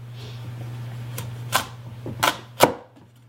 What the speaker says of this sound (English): And that's how to cut open an acorn squash